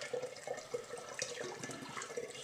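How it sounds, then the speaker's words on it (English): Orange juice pours steadily from a one-litre carton into a vessel for homemade orange wine, a continuous liquid splashing with small gurgles, close and fairly quiet, with no talking. "So that's a litre of orange juice. In there like that."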